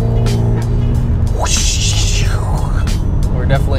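Turbo spooling with a blow-off valve whoosh in an automatic Hyundai Genesis Coupe, heard from inside the cabin over steady engine and road drone, a rising hiss sweeping up and falling away once.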